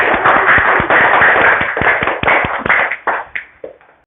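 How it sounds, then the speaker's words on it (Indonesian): Schoolchildren in a classroom clapping together in a loud, steady rhythm of close claps that gradually slows and fades into a few last scattered claps. "tepuk tangan untuk kita semua."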